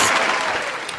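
A brief burst of dense clapping applause on a podcast set, loud and close, fading slightly over one second.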